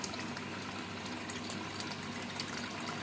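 Steady rushing of water pouring into a pot of jars for sterilizing, continuous and fairly faint, with no voices.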